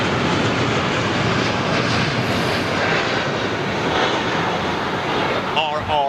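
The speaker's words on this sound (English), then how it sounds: "747 is moving." A Boeing 747 moving at London Heathrow, heard as a steady, broad jet roar that fills the whole stretch at a moderate distance, with a brief higher whine near the end.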